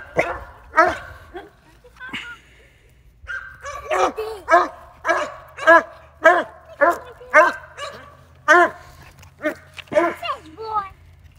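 A dog barks in a steady series of loud, close yaps and barks at a new home on moving day, with faint talk and a low background hum.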